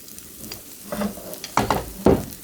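Spoonfuls of batter dropping into hot oil in a pan for Korean jeon such as cabbage pancakes, with a few close, distinct sizzling bursts and soft stirring or scraping sounds between them.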